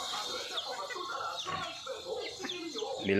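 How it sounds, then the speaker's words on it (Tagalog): Rhode Island Red and native chickens clucking in a Philippine backyard flock at feeding time, a busy, continuous mix of clucks and calls at moderate distance, with a louder burst near the end. "meron po tayong Rhode Island Red at meron po tayong native na manok"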